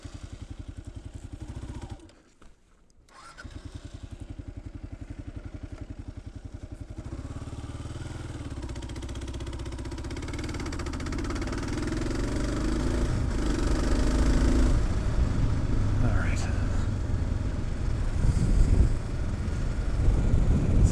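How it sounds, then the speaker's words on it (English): A KLR650 adventure motorcycle engine cuts out abruptly for a moment on a backcountry trail. It then runs again nearby, its rumble growing steadily louder, with no talk. "that's how you stall at a bike"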